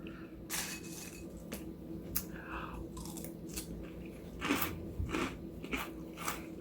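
Someone eats Count Chocula chocolate cereal, giving close, moist chewing and crunching in irregular bites over about seven seconds, with no talking.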